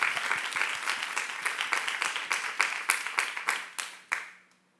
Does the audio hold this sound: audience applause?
yes